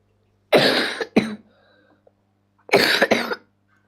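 A person coughs into the elbow: two harsh coughs in quick succession, a pause, then another cough, close and loud against a quiet room with a faint hum.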